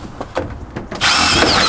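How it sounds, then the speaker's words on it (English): A power drill drives bolts into a roof box on a Volkswagen Vanagon van, starting after a few light knocks and then whirring loud and steady at close range. "I'm just using a drill"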